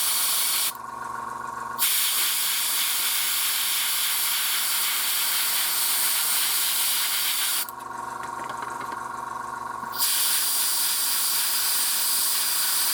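Spray paint hisses from an aerosol nozzle while a wall is being painted, two bursts of about a second and two seconds, loud and close, over a steady background with no talk.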